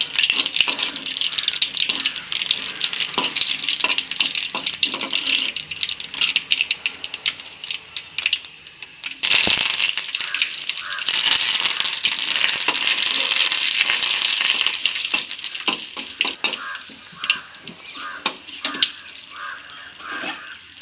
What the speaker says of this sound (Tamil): இப்போ கடுகு நல்லா பொரிஞ்சிருச்சு கருவேப்பிலையும் காஞ்சி மிளகாயும் இதில் போட்டுக்கலாம்